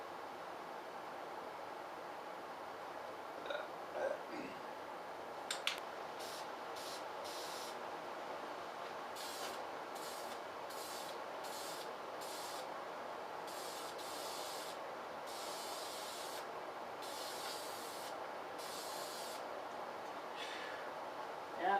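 Aerosol spray can applying old paint to a flag pole, a series of short hissing bursts of varying length, spaced every second or so after a few faint knocks, against a steady background hum.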